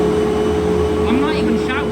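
A Eureka The Boss SmartVac upright vacuum cleaner runs with its insulated motor giving a low, steady, fairly quiet hum, while someone talks over it at normal volume.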